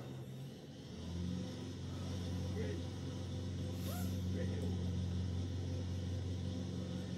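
Vehicle in Ghost Recon Wildlands climbing a hill, a steady low engine drone that swells slightly as it picks up, continuous and loud throughout.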